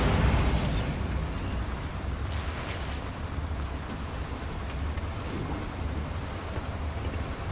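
A Bombarda blast spell from Hogwarts Legacy bursts loudly at the start, then a long rumbling, crackling roar of debris fills the rest of the scene with no voices.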